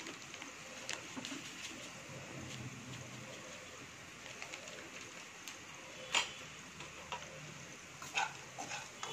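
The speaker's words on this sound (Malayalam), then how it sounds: "നന്നായിട്ട് അത് ഇളക്കി" A spoon stirs chili and turmeric powder into sautéed onions in a pan, with a soft scraping and low sizzle running throughout and a few sharp clinks against the vessel.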